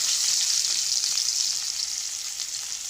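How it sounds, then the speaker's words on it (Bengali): Chopped onions fry in oil with cardamom, cinnamon and cloves for a prawn malai curry, giving a continuous, close, bright crackling sizzle with no voices. "পেঁয়াজগুলোকে একটু হালকা লাল লাল করে ভেজে নেব"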